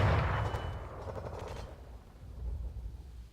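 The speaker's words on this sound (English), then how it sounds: "Fire a shot from the normal gun at the Panzer II." In War Thunder, the main gun of a Sherman Calliope tank fires once at a Panzer II, a sharp, heavy boom that decays into a fading rumble, with no talking.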